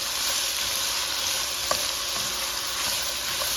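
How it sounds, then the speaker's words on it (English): Garlic, onion and carrot sautéing in a pot, a loud continuous hiss of sizzling oil, steady and close throughout, with one faint clink partway through. "I just add some garlic, some onion, and the carrot to the pot, and I'm going to saute them up"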